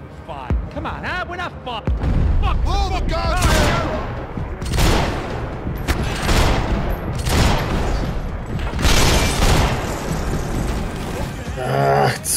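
Rapid bursts of gunfire and loud shots from the video game Max Payne 3, repeating densely throughout the gameplay, with a voice commenting in Polish over the action.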